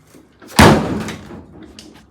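A 1963 Volkswagen Beetle ragtop door shuts with one loud, close slam and a short rattling decay, followed by a fainter knock.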